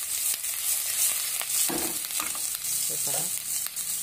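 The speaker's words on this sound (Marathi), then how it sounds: "त्यात आता आपण लसूण आणि आलं हे व्यवस्थित असं मिक्स करून घेणार आहे तेलात" Garlic and ginger fry in hot oil for jeera rice, a constant close sizzle with a few soft stirring scrapes and no talk.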